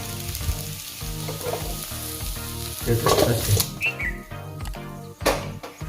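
Potato stuffing fries in a kadhai, a close steady sizzle broken by repeated scraping and clanking stirs, several louder knocks near the middle and end, with no speech.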